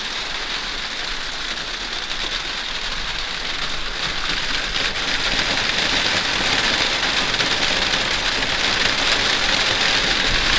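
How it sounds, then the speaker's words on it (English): Hail drumming on the roof and walls of a caravan, a dense, loud, continuous patter that builds slightly in intensity, heard from inside with no one speaking. "Oh, listen to that bit of hail."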